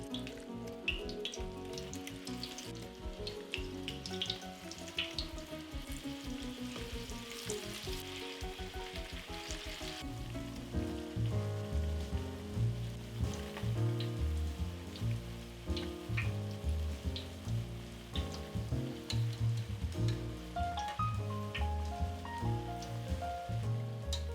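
Spiced zucchini fritters frying in hot oil, a continuous crackling sizzle that swells louder partway through as more batter goes into the pan, with no speech.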